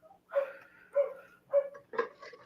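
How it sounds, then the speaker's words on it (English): Dogs barking nearby in four evenly spaced, sharp barks about half a second apart, each clear and fairly loud against a quiet background. "Damn dogs, man, going crazy."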